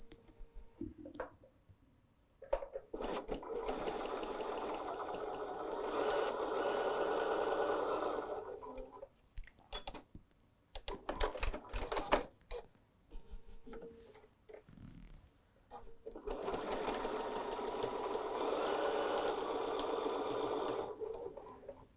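Sewing machine running a quick 1/8 inch seam to join quilt block halves, a steady close whirring in two long runs with clicks and fabric handling between them.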